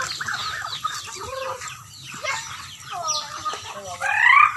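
Backyard chickens clucking and murmuring close by, a continuous stream of short warbling calls with a louder burst near the end, while a person talks over them.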